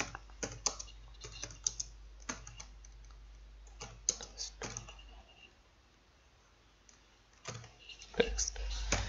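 Bursts of computer keyboard typing, with quick clusters of clicky keystrokes separated by pauses, close and fairly quiet, while someone speaks softly in Hindi in between.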